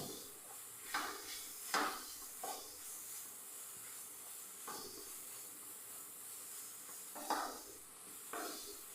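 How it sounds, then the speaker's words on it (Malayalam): Soft sizzling of flattened rice (aval) sautéing in ghee, broken by a few sharp scraping stirs, quiet and close. "നെയ്യിൽ ഒന്ന് വഴറ്റിയെടുത്താൽ മാത്രം മതി"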